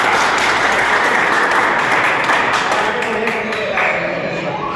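Sustained audience applause at an institute's new-beginning event in India, dense steady clapping filling the whole stretch at close range with some voices mixed in.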